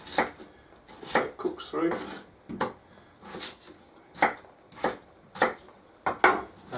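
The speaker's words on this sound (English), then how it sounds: "I'm just coarsely chopping it up" A kitchen knife coarsely chops a potato on a board for vegetable soup, a run of sharp, evenly spaced thuds repeating about once a second, close and fairly clear, with a person talking between and over the cuts.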